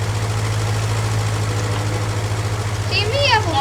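A Minneapolis-Moline garden tractor engine idles with a steady low throb throughout, close and fairly loud, with brief high squeaky sounds near the end.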